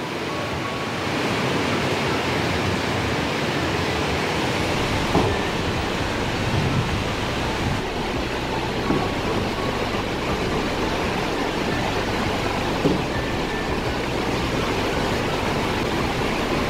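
Water rushing through Johnston Canyon in Canada, a steady broadband roar of a flowing stream heard close and continuous with no break or voices.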